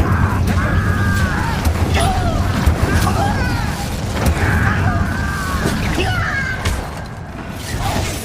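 The Incendio fire spell goes off during combat in Hogwarts Legacy, with rumbling booms, whooshes and clattering bursts amid a continuous loud din of battle, and voices talk over it.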